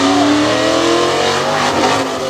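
A monster truck engine roars and revs hard on a speedway track during a launch, a loud, close, sustained rumble with rising pitch and no voices over it.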